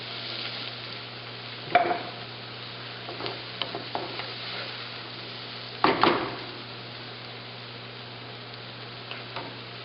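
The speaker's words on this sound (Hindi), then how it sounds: "बहुत डीप फ्राई नहीं करना है, हल्का सा सॉटे करना है, थोड़ी सी इसकी खुशबू हो जाए।" Shrimp sauté lightly in a pan, giving a soft, steady sizzle over a low hum, broken by a few sharp clinks and scrapes of a utensil stirring against the pan, two of them clearly louder.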